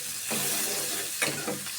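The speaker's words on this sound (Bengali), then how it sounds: "চামচ দিয়ে নাড়তে থাকবো যতক্ষণ না ব্রাউন কালার না আসে।" Onions frying in a pan are stirred with a spoon, a soft steady sizzle broken by a few scraping strokes of the spoon against the pan, close and fairly quiet.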